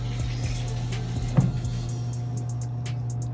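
Running water rinses soapy makeup sponges under a tap, a steady close flow with a brief splashy burst midway and a low constant hum beneath.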